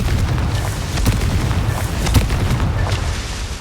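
A Confringo fire spell blast in the Hogwarts Legacy game, a loud rumbling boom with a sustained roar and a few sharp crackling bursts, close and alone without talk.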